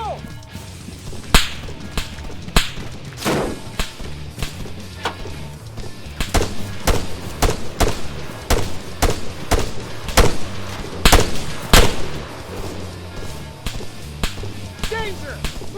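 Gunfire in the military shooter Arma III: sharp, loud rifle cracks fire in irregular bursts and single shots over a low droning background, with occasional shouted voices between volleys.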